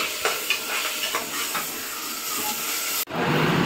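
Ginger garlic paste fries with onions in a pot for biryani, giving a close, steady hiss and sizzle with faint stirring scrapes, then cutting off abruptly near the end.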